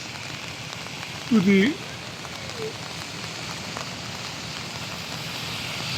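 Steady rain falls over Koper port, a constant close hiss of drops on surfaces throughout, with a brief word spoken near the start.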